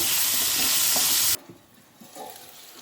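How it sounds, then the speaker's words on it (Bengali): New potatoes fry in a pan with a little salt and turmeric, a loud close sizzle that cuts off abruptly after a second and a half, leaving a faint quiet crackle. "আমি অল্প একটু নুন আর হলুদ দিয়ে আলুটা ভেজে ফিরে আসছি"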